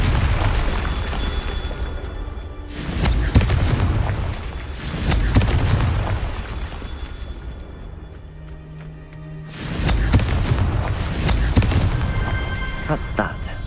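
In a Harry Potter video game, Confringo blasting spells detonate in a series of loud, booming explosions with rumbling tails, separated by brief quieter stretches.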